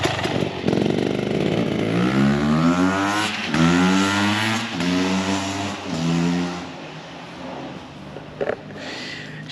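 Beta 300 X-Trainer non-lowboy enduro motorcycle engine revving up through the gears close by, its pitch rising and falling in repeated loud pulls before easing off.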